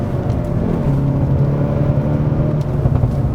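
A Hyundai Veloster N hot hatch accelerating in race mode, its engine droning steadily and loud from inside the cabin, with a rising tone and no talk over it.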